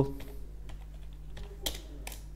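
Typing on a computer keyboard, a handful of quick, light key clicks at an uneven pace over a low steady hum, close and fairly quiet.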